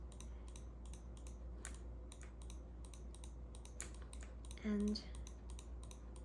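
Quiet, close clicking and tapping at a computer mouse and keyboard during 3D modeling work in Maya, a series of sharp, irregular clicks with a brief spoken word partway through.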